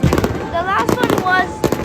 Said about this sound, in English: So this is when the fireworks started.